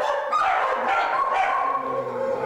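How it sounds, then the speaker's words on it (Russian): Several dogs kept in a cramped apartment bark and yip in overlapping bursts, close and loud, with whimpering mixed in. "Лают, если кто стучит"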